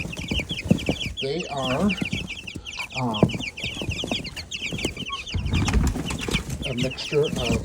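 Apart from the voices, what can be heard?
chickens clucking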